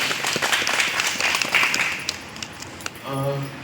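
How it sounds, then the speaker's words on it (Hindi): Audience applause at a block-level meeting, a dense burst of clapping that fills most of the clip and then fades as a voice begins at the end. "तो उनके लिए भी एक बार जोरदार तालियां।"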